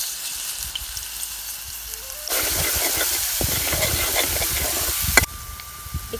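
Ground garlic and green chili paste drops into hot oil with crackling cumin, and the quiet sizzle jumps into a louder, busy frying hiss that holds for a few seconds before easing back.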